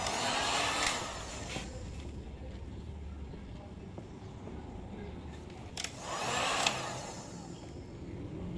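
A blower dries a Honda PCX 160 scooter with a steady, fairly loud whooshing roar that swells at the start and again later as the nozzle moves around.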